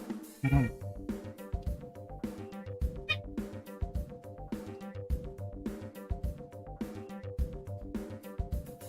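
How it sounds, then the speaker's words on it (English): A pet cat meows repeatedly in a room, its calls coming out loud and insistent alongside a steady rhythmic backing sound, with one sharper cry near the start. "my cat is now loud. If you can hear my cat."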